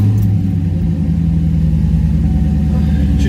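A 1994 Chevrolet Corvette engine, just fitted with a new fuel pump, runs steadily and loudly close by after starting, with a low continuous rumble and no voices.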